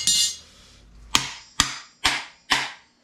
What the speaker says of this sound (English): Try to hit it with a hammer, see if it's gonna come off.